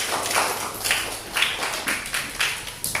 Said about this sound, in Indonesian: Yuk kita kasih tepuk tangan dulu